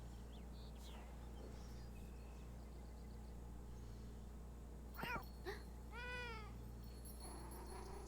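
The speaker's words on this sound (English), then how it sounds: "It's a bad clipping, but it's a good cat." A domestic cat meows a few times near the end, short rising and falling calls, preceded by a chirp, over a low steady background hum.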